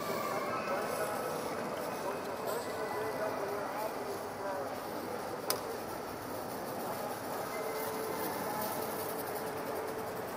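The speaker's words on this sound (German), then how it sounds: "Und jetzt schauen wir mal, ob sie das auch schafft, diesen langen Zug." Live-steam 1:32 gauge 1 model locomotive hauling a long ten-car train on a modular layout, a steady rolling rumble with faint chuffing under continuous crowd chatter throughout.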